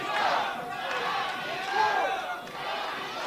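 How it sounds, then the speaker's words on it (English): Loud wrestling arena crowd yelling and cheering in waves, a roaring mass of voices rising and falling over a few seconds. "And listen to the crowd."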